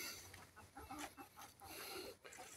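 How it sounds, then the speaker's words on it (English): A bantam hen clucking inside a Florida cracker-style chicken house, soft repeated clucks and murmurs, close but very faint, over low background noise. "There's my little banny hen."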